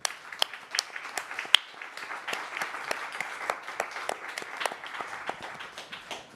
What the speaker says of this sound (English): I think you should join me in a very warm round of applause